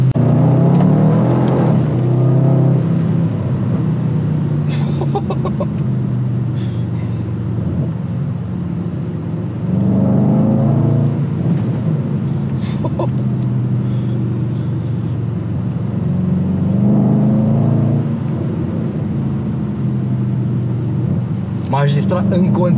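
A Range Rover SVR's engine rumbles and surges while driving, with repeated swells of revving beneath ongoing talk and a few sharp crackles near the end.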